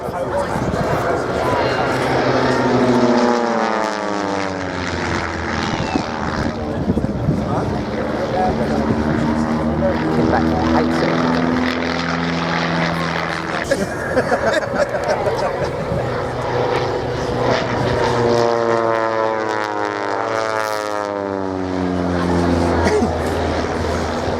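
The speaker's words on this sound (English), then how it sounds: "The aircraft coming in, there's distinct side slip, bit of crosswind to play with." Propeller aircraft at the Shoreham Airshow drone steadily overhead in a crosswind, the engine pitch slowly drifting as they fly past, with a commentator talking over the sound throughout.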